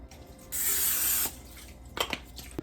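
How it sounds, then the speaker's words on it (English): A steady hiss of aerosol cooking spray into a frying pan lasting under a second, followed by faint clicks and light kitchen clatter. "I'm going to coat the frying pan with just a little bit of cooking spray"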